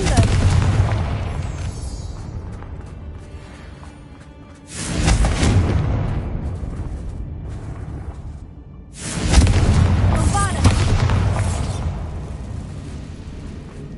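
Confringo blasting spells exploding in Hogwarts Legacy gameplay: two heavy booming blasts about four seconds apart, each bursting loudly then rolling off into a long decaying rumble over quieter game ambience.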